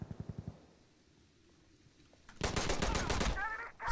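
Makarov pistol gunshots in Insurgency: Sandstorm, a shooter video game. A quick burst of several sharp shots opens, then a quieter stretch, then a loud, dense barrage of rapid overlapping gunfire near the end.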